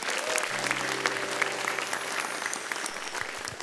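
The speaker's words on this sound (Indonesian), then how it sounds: "Boleh minta tepuk tangannya dulu." Audience at an Indonesian stand-up comedy show breaks into steady applause, a dense wash of clapping that holds loud throughout, with a faint voice briefly audible beneath it.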